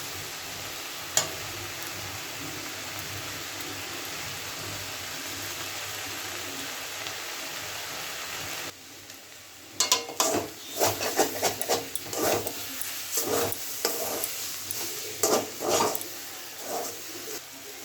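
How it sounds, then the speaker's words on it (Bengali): Fenugreek greens fry in a pan with a soft, steady sizzle, and from midway a spatula scrapes and stirs them in repeated rasping strokes, close and moderately loud. "এবার শুধু একটু ভাজা ভাজা করে নেব"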